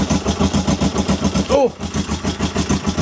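A 1996 Kawasaki ER5 motorcycle engine cranks and catches, running with a steady rhythmic pulse close by, while a person exclaims briefly midway.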